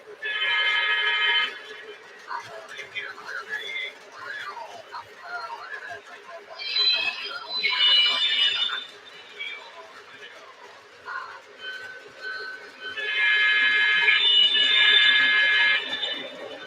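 A starter-set model train locomotive plays its dispatch sound effects, with tonal bell-like and whistle-like electronic chimes coming in bursts over a steady background, and people talking nearby.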